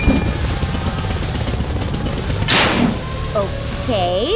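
A cartoon jackhammer rattles loudly and continuously for a couple of seconds, then cuts off into a sharp burst followed by squeaky voice-like tones.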